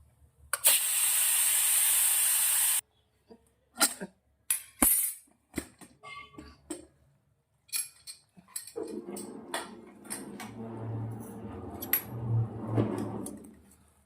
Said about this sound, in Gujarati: હવે આપણે કુકર બંધ કરી દેશું હવા કાઢી અને ઠંડુ પાડશું